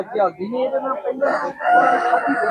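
At a Sunday livestock market, a rooster crows loudly nearby while hens cluck around it, with people talking in the background.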